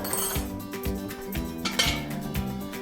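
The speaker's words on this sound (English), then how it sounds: "let me grab a fork" A fork and knife picked up beside a plate of pork pot roast and baked potato, a cluster of close metallic clinks and rattles against dishes in an uneven burst.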